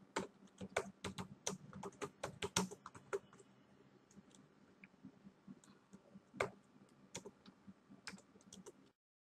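Typing on a computer keyboard: close, crisp key clicks in quick irregular bursts, with a denser flurry early, sparser taps later and a brief pause before a final run, no speech.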